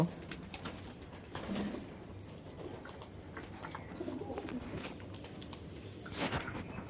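Pigeons in a cage drink and hop about, with soft coos, scattered wing flutters and light scuffling close by, low and continuous.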